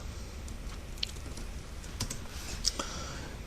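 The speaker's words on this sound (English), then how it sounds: "you can start typing your commands here" Quiet, light typing of commands on a computer keyboard, a steady patter of soft key clicks with a few sharper taps, close and alone.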